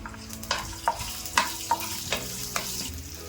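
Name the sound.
cumin, green chilies and garlic frying in oil in a pan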